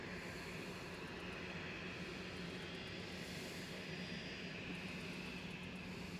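A 13-year-old Boeing 737-800 jet departs Manchester Airport, giving off a faint, steady, distant engine rumble and whine that holds evenly throughout, with no voices.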